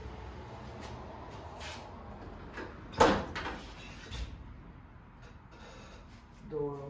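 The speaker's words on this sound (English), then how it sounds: "Door open." The door of a 1971 Chevrolet Monte Carlo SS being opened during body disassembly, a single sharp metallic clunk midway through a quiet garage, followed by faint rattles and handling noise.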